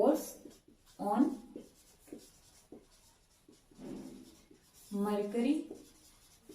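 Chalk or marker scratches and rubs in short bursts while a physics lecture on atmospheric pressure and the mercury barometer goes on, with a teacher talking over the writing.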